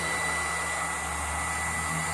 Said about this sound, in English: blow dryer running on this thing for half hour or so